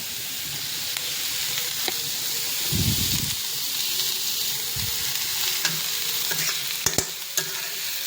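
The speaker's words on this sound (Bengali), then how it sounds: "তো পেঁয়াজটা ভাজা হচ্ছে" A close, steady hiss of onions frying in a pan, broken by occasional stirring scrapes and a few sharp clicks, with no voices.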